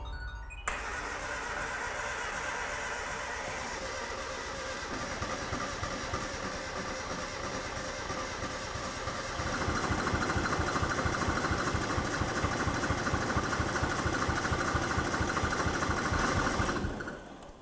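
A Suzuki Cappuccino engine, run after long sitting, starts and runs roughly with an uneven, chugging idle. It grows somewhat louder partway through, then cuts off abruptly near the end. Nobody talks.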